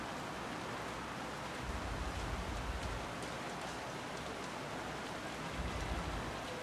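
Steady heavy rain hisses as a broad, even wash of noise during a wet race at Japan in the F1 2013 video game, with no other sounds standing out.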